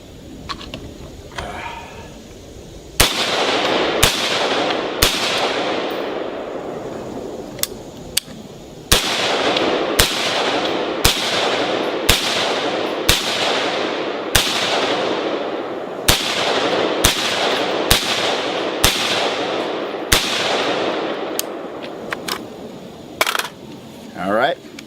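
Rapid series of loud, sharp gunshots as a rifle with a vertical grip is fired through the rest of a magazine at a range, the shots coming in uneven bursts with brief gaps.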